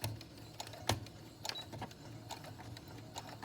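A home sewing machine stitches fabric for a face mask close to a folded edge, running in short bursts with brief pauses and a sharper reverse stitch near the start and end; no one speaks.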